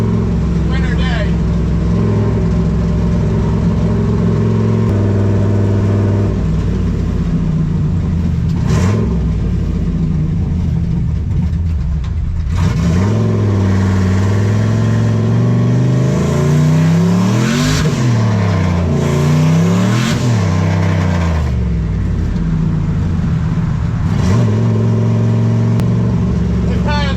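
Chevrolet C10 pickup fitted with a NASCAR engine on a cold winter test drive, engine droning then revving hard in rising and falling sweeps, loud and close, with someone talking over it.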